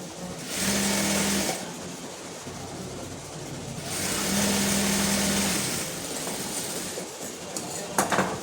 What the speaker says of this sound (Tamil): இது இன்னொரு தையல் போட்டுக்கணும்.